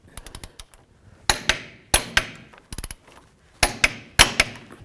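Sharp metallic clicks and clanks from a wrench on the steering rack nuts of a 2005–2015 Toyota Tacoma, arriving in irregular bursts of taps with short pauses, close and fairly loud, no talking.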